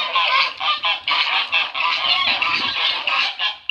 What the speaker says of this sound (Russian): У меня гуси две группы. Каждая группа защищает свое.